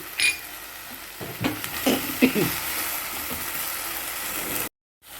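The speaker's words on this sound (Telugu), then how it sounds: "ఇలా వేగేటప్పుడు టమాటా ముక్కలు వేసేయండి" Tomato pieces fry in a pan for mint chutney, a soft sizzle broken by a few scraping stirs and clatters before the sound cuts off near the end.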